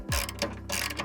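Ratchet wrench tightening screws on a microwave overhead cabinet kit in a 2021–2022 Winnebago Revel, a rapid run of close, crisp clicking pawl strokes in two bursts with a brief pause between.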